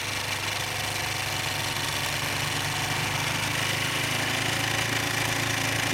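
A snowblower clears a snowy driveway, its engine running steadily close by with a rough, mid-pitched chug and constant rumble, no voices.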